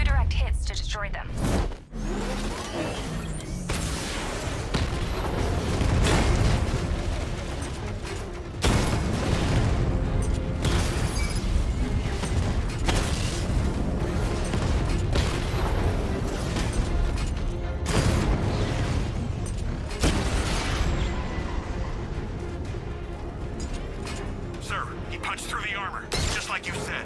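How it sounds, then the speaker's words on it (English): A 60mm cannon fires in Batman: Arkham Knight, with several heavy booming shots and explosions spread through a loud, busy mix, partly under spoken dialogue. "Your 60mm cannon will penetrate these heavily armored units, but it'll take a few direct hits to destroy them."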